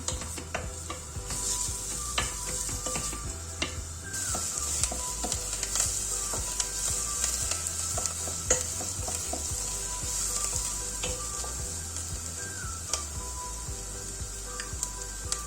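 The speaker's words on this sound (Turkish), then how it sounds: "Soğanlarım pembeleşinceye kadar kavuracağım." Chopped dry onion sautéing in olive oil in a pot for a purslane dish: a steady, close hiss of sizzling with occasional light clicks and scrapes of stirring, with no voices.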